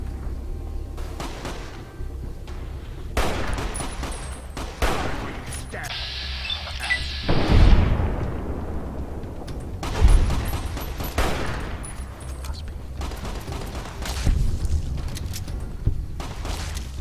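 Booming sniper rifle shots in Fallout: New Vegas land in spaced, heavy reports with echoing tails, mixed with other combat noise and a voice talking over it.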